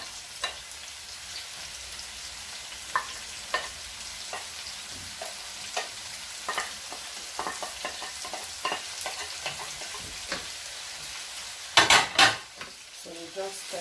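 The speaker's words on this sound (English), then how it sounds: "so we just stir it together." Tomato and pepper fry in a pot for vegetable rice, with a constant sizzle under repeated spoon scrapes and taps against the pot, and a louder clatter of utensils near the end; no one speaks.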